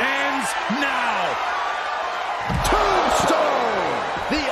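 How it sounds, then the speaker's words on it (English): Undertaker Tombstone slam in the WWE 2K24 wrestling game: two heavy impacts stand out, around the middle and again near the end, under a loud arena crowd and excited commentary. "The Undertaker bringing the hammer down with that one"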